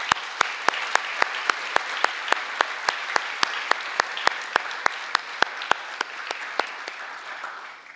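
A graduation ceremony audience in Tartu applauds: a broad wash of many people clapping, with a few loud claps landing in a steady, regular beat, tapering off at the end.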